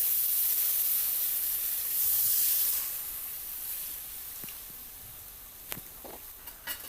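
Tamarind water poured into a simmering karunai kilangu (elephant foot yam) kuzhambu, a brief loud hiss and sizzle that fades into quieter bubbling with a few small clicks near the end.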